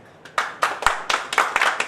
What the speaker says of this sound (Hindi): अब आप ताली बजा सकते हैं।